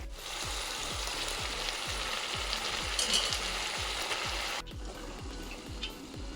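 Rui fish and garden-grown potatoes fry in a pan, giving a steady close sizzle with regular stirring scrapes repeating through the whole stretch, with no voices.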